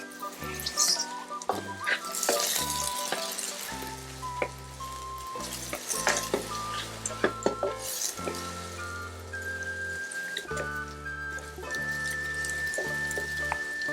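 Mushrooms stir-fried together in a hot pan, with soft sizzling and the clatter of stirring under a backdrop of kitchen noise and music, fairly quiet overall.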